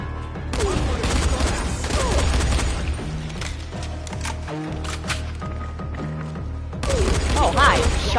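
Bursts of gunfire in the video game Dying Light, rapid shots and booms in clusters over a steady game backdrop, fairly loud and close.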